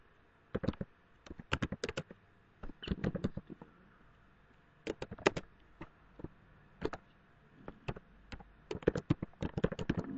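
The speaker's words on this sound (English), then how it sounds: "Okay, we'll type code here." Code being typed on a computer keyboard, crisp close key taps in quick uneven bursts separated by short pauses, fairly quiet with no talking.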